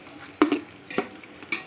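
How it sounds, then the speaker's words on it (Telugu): Onions and tomato frying in a pan as a grandmother cooks biryani, with three separate scraping stirs of a utensil against the pan over a low sizzle, fairly close. "ఇలాగ మేము ఆనియన్స్ గట్ట వేసేసి మా అమ్మమ్మ ఇంకా వండుతున్నారు"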